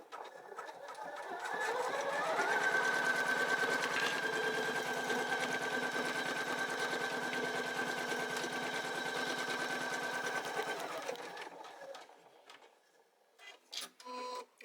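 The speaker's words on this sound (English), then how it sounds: "I'm going to go ahead and let it do its complete tack down stitch" A Poolin EOC06 embroidery machine stitches a tack-down outline with a fast, steady mechanical chatter that holds for about ten seconds before winding down, followed by a few small clicks.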